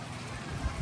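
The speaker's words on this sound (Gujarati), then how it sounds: "જોઈ શકો છો તમે, વરસાદ બી ચાલુ થઈ ગયો છે." Light rain beginning to fall outdoors, a soft steady patter of drops on surfaces that grows slightly louder toward the end, with no speech over it.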